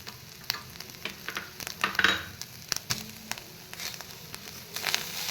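Grated coconut fries lightly in a pan with sugar and jaggery for Enduri pitha, a soft continuous sizzle broken by scraping stirs and small clinks of a utensil against the pan, with no talking.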